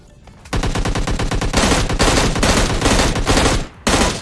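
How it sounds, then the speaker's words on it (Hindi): Rapid bursts of automatic gunfire from the video game PUBG Lite, loud and sustained, with dense repeated shots and a brief pause before a final burst. "और फिर उसके बाद बंदे पर भी गोलियां चलाई जाती हैं।"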